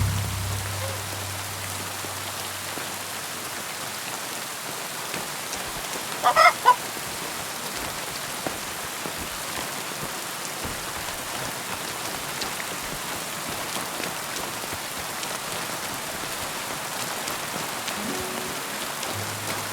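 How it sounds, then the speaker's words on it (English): Heavy rain pours down steadily in the video game Kingdom Come Deliverance 2, a constant dense patter that fills the whole stretch, broken only by a brief louder burst partway through. "Pissing down rain again."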